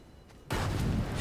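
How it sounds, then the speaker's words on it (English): A TNT dynamite charge goes off in the Astroneer video game, a sudden loud close blast that bursts in after a quiet moment and keeps rumbling, with no talk. "There's TNT. TNT. It's dynamite. Let's go set this off."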